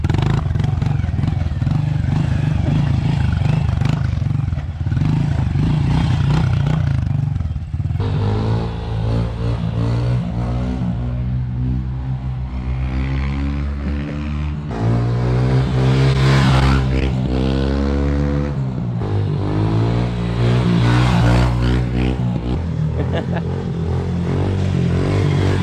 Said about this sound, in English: we're gonna just rip the 110 around a little bit